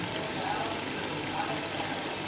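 Water poured into a pot of vegetable pulao rice, a steady broadband splashing hiss lasting the whole moment, close and even.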